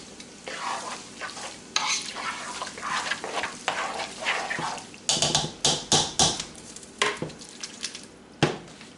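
Alligator meat is stirred into a simmering etouffee, with a soft sizzle and bubbling under wet, squelching spoon strokes that grow into a quick series of louder stirring scrapes in the pot.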